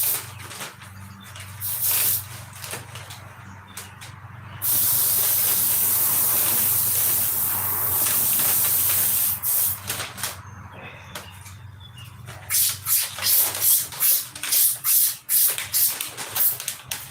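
Spray gun laying down paint with some overspray, giving steady hissing bursts that start and stop, including one long continuous spray, with quieter pauses between passes.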